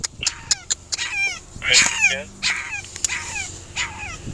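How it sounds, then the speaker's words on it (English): A puppy trapped inside a car whimpers and cries in repeated high, wavering yelps, sounding close and a little muffled, with short pauses between bursts. "It is very heartbreaking to hear the puppy's distressed cries through a crack in the window."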